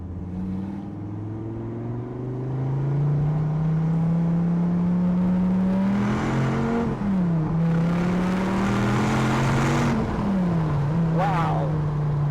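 A 2017 Dodge Viper GTC's powerful 8.4-liter engine climbs steadily in pitch as it accelerates hard uphill, with quick shifts that dip and rise again, loud and close.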